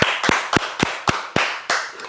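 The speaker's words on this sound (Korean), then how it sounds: "박수 치시기 바랍니다" A church congregation at a sermon breaks into loud, close clapping, about eight sharp, evenly spaced beats over a couple of seconds, with no talk over it.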